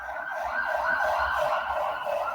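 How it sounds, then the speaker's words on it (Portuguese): An ambulance siren passing on a street, a continuous wailing tone rising and falling in steady cycles over a low traffic rumble, moderately loud and unaccompanied by speech. "Tá passando uma ambulância aqui."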